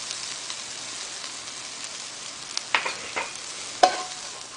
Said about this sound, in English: so let's mix it all together